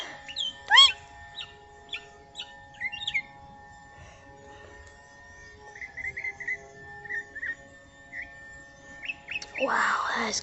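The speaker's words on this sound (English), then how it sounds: "it's calling for other bird species" Wild bird calling outdoors in a series of short, bright chirps and whistled notes, some in quick clusters and others spaced apart, fairly close and clear, with a brief rustling burst at the end.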